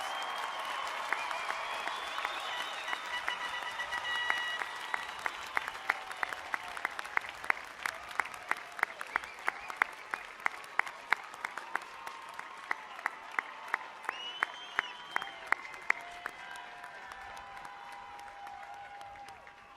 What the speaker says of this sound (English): Will you please join us in applauding the graduates in these sections?